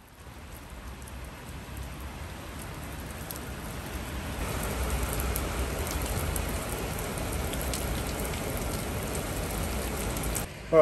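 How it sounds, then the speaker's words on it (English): Heavy rain pours down outdoors in Dole, France, as a dense, steady hiss that swells slightly partway through and keeps going without a break. "it's absolutely tipping it down out there"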